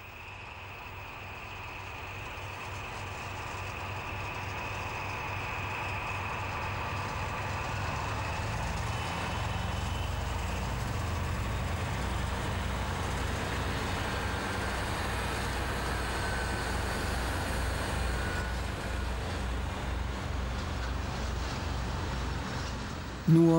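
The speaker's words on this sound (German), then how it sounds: "Gleich 2 von ihnen haben in Tüssling Ausfahrt nach Burghausen." Two DB class 217 diesel locomotives of the V160 family depart from Tüssling toward Burghausen, their diesel engines throbbing and building steadily in a long, fairly loud rising roar.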